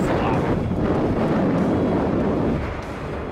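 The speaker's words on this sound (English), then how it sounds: "It's outrageously windy" Strong wind roars and buffets the microphone nonstop on the summit of Mount Moosilauke in the White Mountains, a loud broadband gusting that eases slightly near the end.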